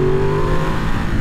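A 2023 Ducati Monster SP motorcycle accelerates hard in third gear, its engine note loud, close and steadily pulling with no speech over it.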